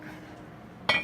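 A lid set onto a cooking pot of pasta fagioli lands with a single sharp metallic clink at the very end, following a quiet moment of kitchen room tone.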